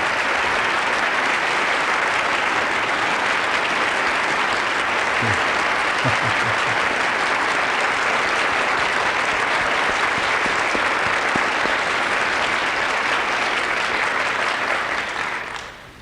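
Sustained applause from a large crowd, dense and steady for a long stretch before fading out at the end.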